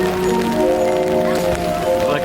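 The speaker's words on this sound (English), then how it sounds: "Having fun in the rain?" Rain falls steadily at the Disneyland Resort with a constant wash of drops. Voices and tonal background sound sit over it throughout.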